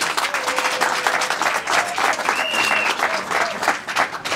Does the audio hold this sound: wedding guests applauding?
yes